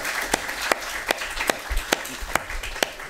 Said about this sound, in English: I want a hand of applause for these wonderful presentations.